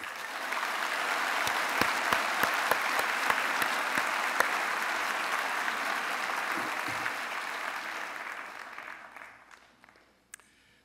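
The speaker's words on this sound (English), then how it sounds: "please give yourself a big round of applause" Graduates clap at an engineering technology convocation, a steady hall-filling round of applause with occasional sharper claps, fading out near the end.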